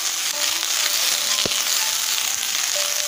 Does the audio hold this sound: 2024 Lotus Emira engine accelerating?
no